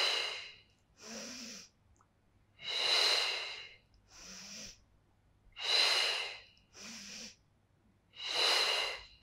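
Slow, deliberate breathing during a Pilates leg workout on a mat: close, loud breath sounds that alternate between shorter inhales and longer forceful exhales, repeating in a steady rhythm with clear pauses between.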